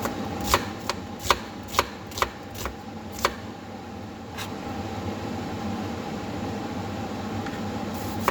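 A knife chopping an onion on a cutting board for a lentil bean salad, about eight sharp close knocks in a quick uneven rhythm over the first few seconds, then only steady kitchen background hiss.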